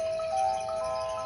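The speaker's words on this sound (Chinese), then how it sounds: "就是灯泡亮起来，然后就有那种叮咚很像风铃的声音" A light-up children's sound book plays a soft ding-dong chime like a wind chime, a brief faint ringing tone alone.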